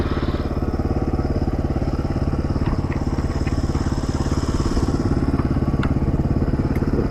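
Motorcycle engine running steadily at close range, a continuous low throbbing rumble with a faint clatter on top and little change in pitch throughout.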